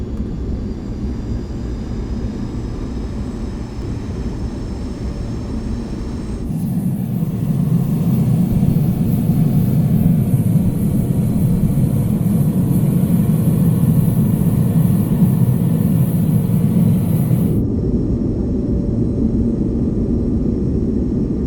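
An Air France Concorde on its takeoff run starts with a quieter rumble, then a sudden loud roar of jet engines holds steadily for about ten seconds before dropping back to a lower rumble.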